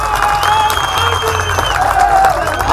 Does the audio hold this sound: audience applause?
yes